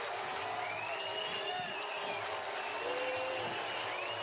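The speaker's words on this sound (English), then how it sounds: "And listen to the fans on their feet." A spring training baseball crowd roars and applauds after a three-run home run, a dense, steady wash of cheering heard from within the stands.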